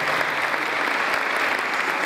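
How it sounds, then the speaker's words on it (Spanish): Audience at a cultural night event giving a loud, sustained round of applause, dense and even throughout with no speech on top. "Más fuerte un aplauso, por favor, para que me den aire."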